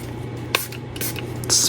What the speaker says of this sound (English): Spray the tops.